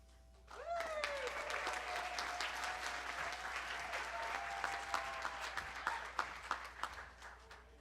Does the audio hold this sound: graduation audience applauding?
yes